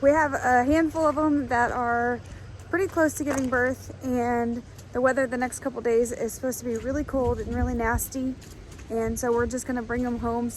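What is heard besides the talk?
No distinct noise like a dog, phone or traffic.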